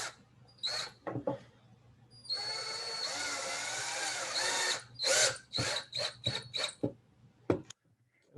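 A cordless power drill drives screws into a wooden bee hotel. Short whirring bursts come first, then one sustained run of several seconds and a series of quick trigger pulses, all close and loud in a quiet room.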